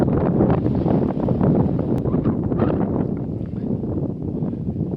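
Heavy wind buffets the microphone on a rocky fell trail near the summit in Lapland, a loud continuous roaring rumble with no pauses and no voices.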